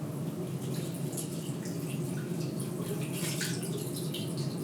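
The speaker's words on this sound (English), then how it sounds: "Rinse hands with water." Hands are rinsed under a running faucet, giving a steady splashing stream of water with scattered drips and no voices.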